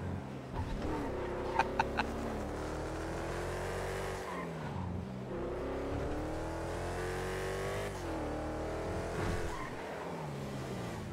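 A car engine in Grand Theft Auto revs up and down in repeated rising sweeps, with tire squeal and skidding mixed in, loud and continuous for several seconds, with faint voices in the background.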